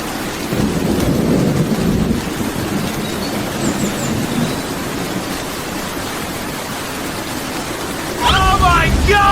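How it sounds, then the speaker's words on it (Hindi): Sudden rain falling steadily with rumbling thunder, a dense wash of noise that swells louder near the end as a voice cries out over it. "चलो किधर से बारिश हो गया।"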